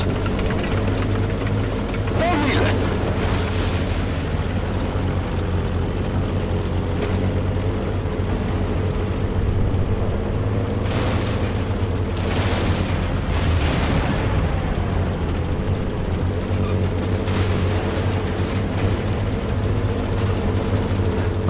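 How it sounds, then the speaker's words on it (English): Tank cannon shots in War Thunder, a few heavy booms spaced across the stretch over a constant low engine rumble, loud and close with no talk. "fires at the center of that tank"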